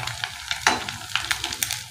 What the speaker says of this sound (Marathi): आपल्याला यांना छान लालसर रंग येईपर्यंत तळायचा आहे।